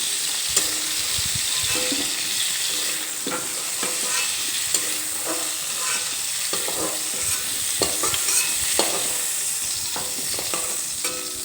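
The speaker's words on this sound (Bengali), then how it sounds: "এখানে দেখো ফুলকপিগুলো ভাজা হয়ে গেছে" Cauliflower frying in a pan of oil crackles and sizzles steadily up close, punctuated by repeated stirring scrapes and light taps of a spatula.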